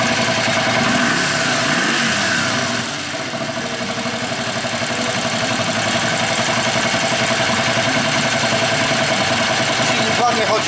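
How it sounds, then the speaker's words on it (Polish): A Yamaha Virago XV 535 motorcycle engine, freshly tuned carburetors, idles steadily and evenly close by, a continuous rumbling throb lasting throughout without breaks. "Silnik ładnie chodzi, nieprzerywanie strzela."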